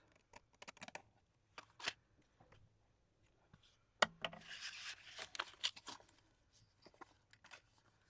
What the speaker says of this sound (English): I'm just going to grab my scissors and trim that off